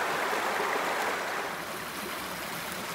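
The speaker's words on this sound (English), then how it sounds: "here the creek comes right out of the side of the mountain" Creek water pours steadily out of a mountainside spring at Bethel Spring on Keel Mountain, Alabama, a continuous close rushing and trickling flow with no voices.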